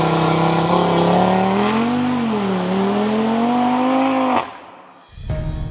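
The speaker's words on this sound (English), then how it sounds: "The 2026 Audi RS3 Sportback has the iconic 5-cylinder under the hood." A 2026 Audi RS3 Sportback's five-cylinder engine revs loud and close, its pitch wavering up and down for several seconds before cutting off abruptly, then a short burst returns at the end.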